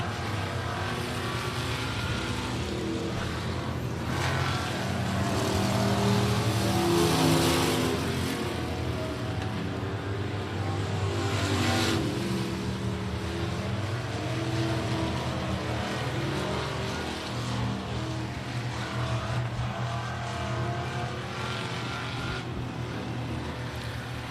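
Race cars in a heat race at Big O Speedway make a continuous, loud engine roar that swells and fades as the pack circles the track, with no break in the din.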